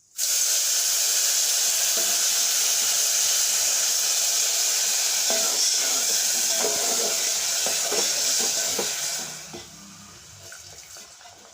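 Water poured into a hot pan of roasted semolina for halwa hisses and sizzles loudly and steadily with bubbling crackle, then quiets as the steam dies down near the end.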